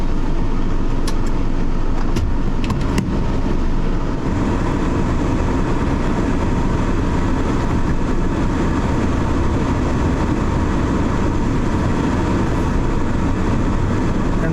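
A loaded truck pulling out of the Panasonic factory grounds, its engine and road rumble a loud continuous drone heard from inside the cab, with a few faint clicks early on.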